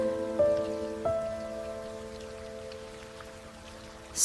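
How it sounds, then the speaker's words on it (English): Steady rain falls and patters continuously beneath sustained, slow musical tones, with a couple of soft swells early on and a brief brighter sound at the very end. "It's still raining, just let it rain."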